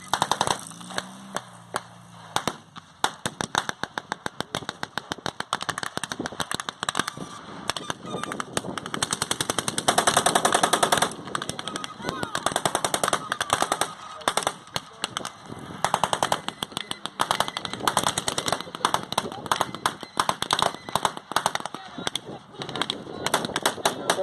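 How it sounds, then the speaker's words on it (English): Fifty-calibre and Jeep-mounted machine guns firing during a desert battle reenactment, with sustained rapid bursts of loud gunfire that rattle on almost without pause from near to mid distance. "The overwhelming firepower of the 50 calibre machine guns and the machine guns on the Jeep, the Italians have started to move back."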